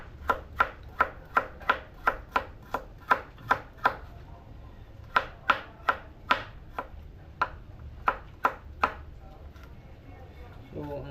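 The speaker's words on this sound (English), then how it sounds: "So I'm just chopping these guys" A knife chops ingredients for goat fry on a board in a regular run of sharp, close knocks. The knocks come in two bursts of about a dozen each, with a short pause between them.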